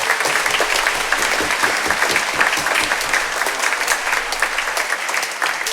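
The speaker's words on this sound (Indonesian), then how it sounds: "Mudah-mudahan kita beri tepuk tangan untuk Prodiakon." Congregation clapping inside a church during a Catholic Mass for the installation of lay ministers, dense and continuous applause filling the space without letup.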